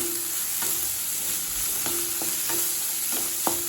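Chopped vegetables stir-fried on high flame for Schezwan fried rice, with a steady loud sizzle broken by several sharp scraping strokes of a spatula in the pan.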